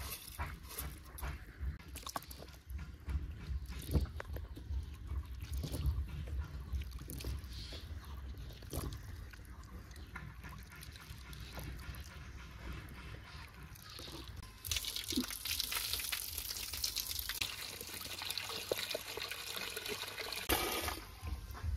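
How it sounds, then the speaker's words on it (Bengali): Cut vegetables, including unpeeled pointed gourd, are rinsed with water in a home kitchen, giving a steady run of trickling and splashing with occasional clatters and a brighter, louder stretch of water near the end. "সবজিগুলো কেটে নিয়েছি, তো এবার আমি ধুয়ে নিচ্ছি"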